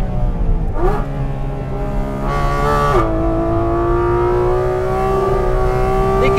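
A Porsche Cayman GT4 RS fitted with the Manthey Racing kit revs hard, its loud engine note climbing and shifting steadily in pitch, close and sustained without talk.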